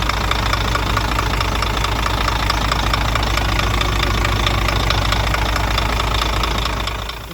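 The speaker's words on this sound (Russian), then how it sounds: "поднимает обороты, поэтому обороты такие большие" A Scania DC13 truck diesel engine, revving high from a bad software flash, runs loud and steady, a dense continuous roar with a rough knocking edge, close by, with no voices over it.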